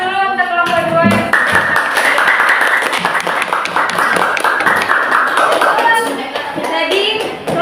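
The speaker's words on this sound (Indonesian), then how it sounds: "Oke, tepuk tangan dulu untuk kelompok 2" Classroom applause for a student group after their presentation, a dense run of many hands clapping close by for several seconds, fading slightly near the end, with voices mixed in.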